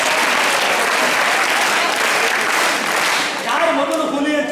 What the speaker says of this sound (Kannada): ಚಪ್ಪಾಳೆ ತಗೊಳ್ಳಿ